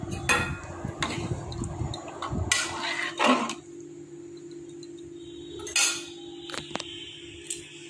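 A spoon stirs dalia in a cooking pot, with a few clinks and scrapes against the metal up close, separated by quiet gaps and a low steady hum underneath.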